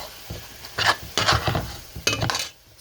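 A big spoon stirring Jamaican-style curry goat in a pot, sounding as a few separate scraping, sloshing strokes with short pauses between them, close and moderately loud against a quiet background.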